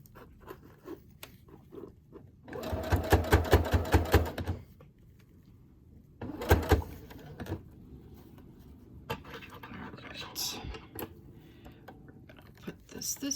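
A sewing machine stitching a finished edge onto a fabric purse journal, two rapid rattling bursts of a few seconds each, with quiet handling sounds and some talking in between.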